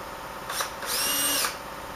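A power drill drives screws into a frame, with a short whirring burst followed by a longer rising spin, close by against a faint steady background hum.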